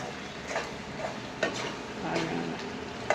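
A spoon stirs chicken pepper gravy in a pan, with soft scraping strokes and light clicks against the metal over a steady low sizzle, close and moderately loud.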